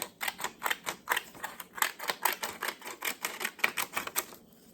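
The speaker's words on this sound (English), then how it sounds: "I'm just cutting my triangles all the way." Scissors snipping paper triangles for a wedding-themed junk journal, a quick run of about twenty crisp, close cuts in a steady rhythm, alone with no talking.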